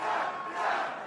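A large live audience cheers and roars continuously for about a second at a puppet comedy show, a dense sustained crowd swell that rises and falls slightly with no individual voices standing out.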